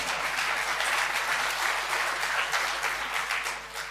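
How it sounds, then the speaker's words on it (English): Audience applause for Finland during an education talk, a steady, full burst of clapping from a large crowd that tapers off slightly at the end. "you can give a little applause to Finland here"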